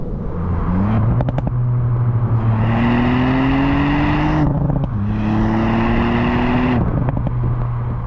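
Ford Fiesta ST hot hatch engine held in second gear at about 4,000 RPM, a loud steady drone with rising pitch over two long pulls separated by a brief dip, close and alone.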